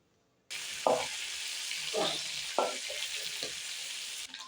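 Whole garam masala spices hit hot oil left from frying prawns. A sudden sizzle starts and holds steady, with several scraping stirs breaking through at intervals before it cuts off. Nobody speaks.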